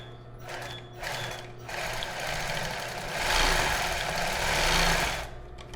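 Domestic sewing machine stitching the back of a strap on a child's bra, a steady close mechanical whir that starts and stops in short bursts, then runs continuously and grows louder.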